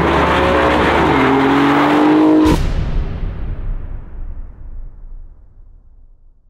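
An Alfa Romeo Giulia GTA M revs hard through rising engine notes, then a sharp loud crack is followed by the sound fading away as the car passes into the distance.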